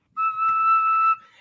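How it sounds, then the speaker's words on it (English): An Irish tin whistle sounds one steady, piercing high note held for about a second, loud and close with nothing else behind it. "I got my Irish tin whistle."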